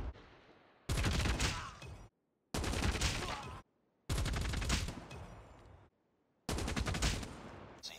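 An S36 light machine gun in Call of Duty: Mobile fires four loud sustained bursts of rapid automatic fire, each lasting over a second, separated by short silent pauses.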